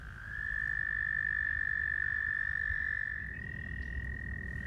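An American toad gives a long, steady, high musical trill at a pond's edge, close and clear for about three seconds, then fading under a low background hum.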